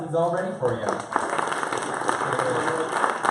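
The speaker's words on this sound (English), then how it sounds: "please give him a round of applause" Audience applause at an augmented reality meetup as a startup CEO is welcomed to present, the clapping running under a voice speaking briefly over it.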